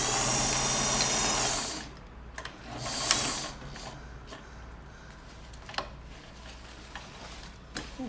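A sewing machine stitching fabric with blue top thread runs loud and steady for about two seconds, then stops, leaving quiet handling clicks and taps.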